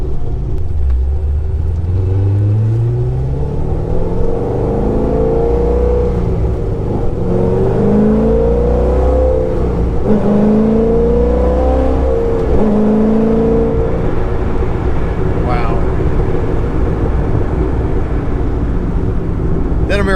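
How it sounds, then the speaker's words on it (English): A cammed C6 Corvette Z06 V8 with a manual gearbox roars and revs up through rising gear changes, loud and close, with a deep rumble throughout. "a V8 engine in something that feels like you're strapping on a motor"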